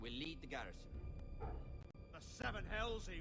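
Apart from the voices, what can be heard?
No everyday noises stand out.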